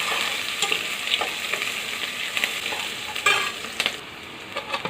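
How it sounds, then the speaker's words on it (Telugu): Onion pieces and curry leaves fry in hot oil for a tempering for tamarind-leaf dal, with a steady close sizzle broken by repeated scrapes and clinks of a spoon stirring the pan, and no talking. "ఇప్పుడు ఉల్లిపాయ ముక్కలు వేస్తున్నాను. ఈ విధంగా వేయించుకోవాలండి అన్నీ కలిపి"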